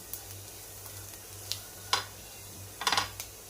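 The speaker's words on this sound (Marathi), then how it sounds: "हळद सुद्धा आपल्याला ही सगळी परतून घ्यायची आहे, मिक्स करून घ्यायची आहे।" A spatula scrapes and taps now and then in a pan of sautéed onion with turmeric, with a low hum beneath and a faint sizzle throughout.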